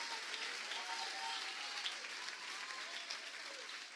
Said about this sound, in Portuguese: Vamos, aplauda junto a Jesus com os irmãos.